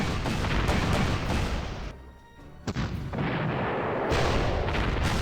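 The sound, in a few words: artillery fire in video game Panzer Corps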